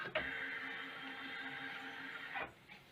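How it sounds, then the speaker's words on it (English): A Husqvarna Viking Designer Brilliance 80 embroidery unit drives to its park position with a quiet, steady motor whine. The hum holds for about two seconds, then winds down and stops. "the embroidery unit goes over there at the corner"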